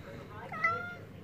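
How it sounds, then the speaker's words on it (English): A pet cat meows once, close by, in a room where fireworks are being shown off, with a low background hum around it. "it's my cat ruining the video"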